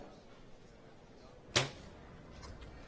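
A single compound bow arrow is loosed in a women's bronze medal archery match at Den Bosch, a sharp, brief snap and whoosh standing out against quiet outdoor ambience.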